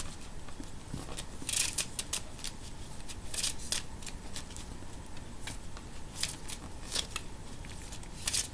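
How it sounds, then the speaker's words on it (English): Playing cards for the Love Letter card game are shuffled, giving a series of quick riffling and rustling bursts at irregular intervals, fairly quiet and close, with no talking. "So we're going to shuffle again."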